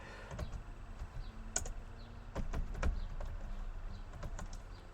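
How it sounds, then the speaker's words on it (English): Keys clatter on a computer keyboard in bursts of quick clicks while a simple HTML idle clicker game is being coded, sounding close and fairly quiet with no talking. "go ahead and carry on typing"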